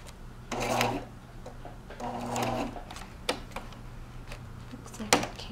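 A sewing machine stitches twine onto a card frame in a few short runs of rapid close whirring, separated by pauses with small clicks and handling noises.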